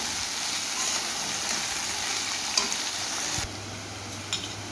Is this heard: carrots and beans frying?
yes